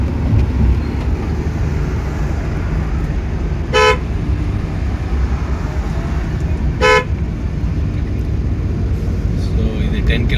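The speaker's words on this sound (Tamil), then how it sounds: "2 வீலரும் போகுது, 4 வீலரும் போகுது." Dense road traffic of two-wheelers and cars crosses the G D Naidu flyover in Coimbatore as a steady, close rumble of engines. Two short, sharp horn toots cut through it, with faint horns near the end.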